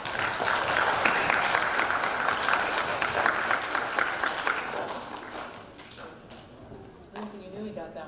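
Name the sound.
audience applause at spelling bee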